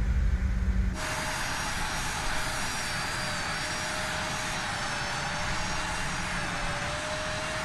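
An airliner in Microsoft Flight Simulator powers up for takeoff on runway 18 left, its engines swelling into a loud, steady roar with a sustained high whine running underneath.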